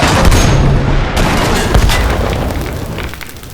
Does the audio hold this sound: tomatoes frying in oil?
no